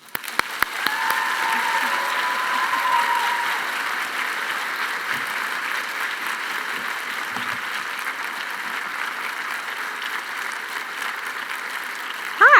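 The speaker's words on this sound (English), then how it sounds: "So please join me in a big round of applause to bring Raina to the stage." An audience applauds to welcome a speaker on stage at a keynote conversation, with steady, dense clapping from a large hall that starts with a few sharp claps, holds loud and even, then fades slightly near the end.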